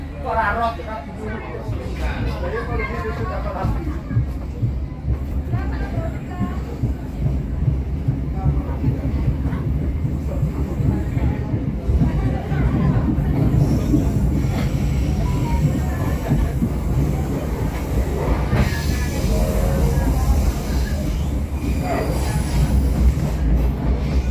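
A local economy-class passenger train running from Surabaya to Cepu rolls steadily along the rails with a constant rumble and rhythmic wheel clatter, occasional squeals rising, and voices talking underneath.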